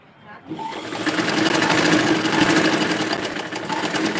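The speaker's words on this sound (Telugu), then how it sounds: "అందుకనేసి 2 స్టిచెస్ అయితే వేస్తున్నాను." A sewing machine stitching a dress starts up and runs in a fast, steady mechanical whir close by, while someone speaks over it in Telugu.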